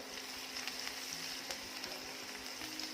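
Onion fries with salt in a pan, a quiet continuous sizzle with faint crackles and light stirring, no speech over it.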